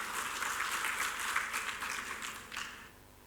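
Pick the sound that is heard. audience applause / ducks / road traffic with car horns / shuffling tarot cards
audience applause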